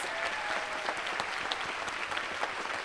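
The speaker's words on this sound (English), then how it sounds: "Please give a big round of applause" Audience applause for award recipients at a medical school class of 2022 awards ceremony, a steady wash of clapping from a sizeable crowd throughout, moderately distant, with no voices over it.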